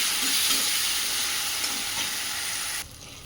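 Mango frying in a pan with a paste of mustard, cumin and green chili, a loud continuous sizzle with faint stirring scrapes that cuts down abruptly near the end, no talking.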